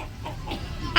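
Chickens cluck softly nearby in a short burst, a few low clucks over faint background noise, ending with a sharper louder note.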